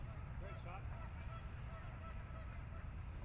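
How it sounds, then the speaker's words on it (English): Geese honk several times at mid distance across an outdoor disc golf course during a final tournament round, their calls rising over steady background noise with faint voices. "Travis just keeps going after those geese"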